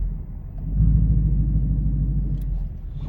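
A manual car's engine rumbles low and steady up close while the clutch is eased in and out, the note swelling slightly then holding, with no gas applied and no talking.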